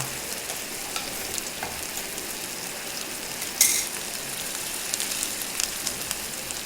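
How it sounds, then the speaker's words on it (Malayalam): Shallots, ginger, garlic and curry leaves sauté in hot oil for a Kerala fish curry, giving a constant soft crackling sizzle with a few sharper pops and a brief scrape of stirring midway, and no talk. "ചുവന്നുള്ളി, ഇഞ്ചി, വെളുത്തുള്ളി, വേപ്പില എന്നിവയിട്ട് വഴറ്റുക."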